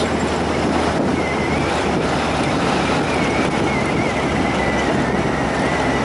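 Steady broadband road and wind rush from a 1929 Ford Model A highboy roadster with a Buick engine while driving, the engine itself smooth and quiet beneath constant loud wind noise, with no talking.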